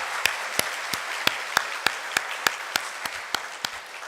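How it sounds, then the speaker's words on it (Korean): A church congregation's sharp hand claps strike in a steady, evenly spaced rhythm, about three per second, over a soft background hiss. "우리 모든 성도님들께 격려의 박수 해주시기 바랍니다"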